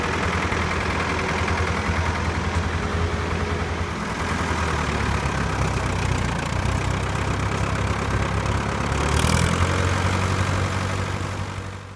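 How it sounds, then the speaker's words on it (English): A farm tractor's engine drones loud and steady at close range after its PTO is shut off from driving a grinder, then surges briefly near the end as the revs change. "Let's shut off the PTO and rev the tractor down."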